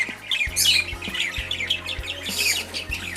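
Several lovebirds in a breeding aviary setup squawk and chirp in repeated shrill bursts, fairly close, over a low mechanical hum.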